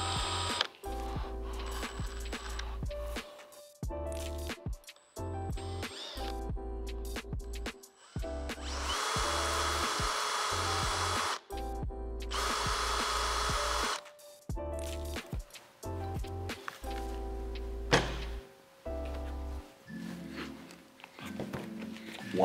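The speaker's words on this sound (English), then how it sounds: "You just want to drill a small hole with the smallest drill bit you've got in your drill set." A small power drill with its smallest bit whirs in several short bursts separated by pauses while drilling a small hole in PVC, with one longer stretch of drilling in the middle and clicks of handling between.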